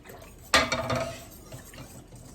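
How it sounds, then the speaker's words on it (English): A spoon clatters and scrapes against a pot while tomato soup batter is stirred to break up lumps, with one sharp knock followed by a few softer scrapes. "so then we just stir that up. And just try to get out all the main lumps"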